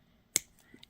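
A pair of clippers snips once through a piece of ear cuff wire, a single sharp, close click followed by a couple of faint small ticks in near silence.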